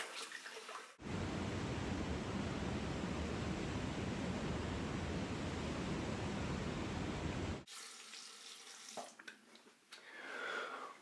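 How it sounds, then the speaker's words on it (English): Water runs from a tap in a steady rush for about seven seconds to rinse shaving soap away after a first shave, then cuts off, leaving faint splashing and handling sounds. "All right, let's rinse off real quick."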